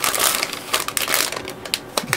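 Plastic packaging of a Gundam model kit being opened by hand, a dense run of close crinkling, crushing and tearing crackles with irregular sharp snaps throughout.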